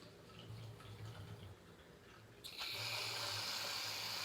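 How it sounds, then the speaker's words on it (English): Water pours into a clear cup for a cloud-in-a-cup classroom science experiment, a steady bright splash that starts abruptly halfway through and runs continuously to the end, fairly close, after a quieter stretch of room hum. "While everyone's getting their cups filled with water"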